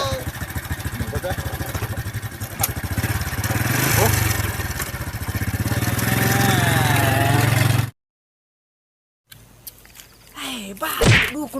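A motorcycle engine idles up close with a steady, throbbing putter that rises slightly in the middle, then cuts out abruptly, followed by a short quieter stretch with noise and a bump.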